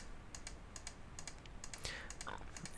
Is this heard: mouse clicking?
yes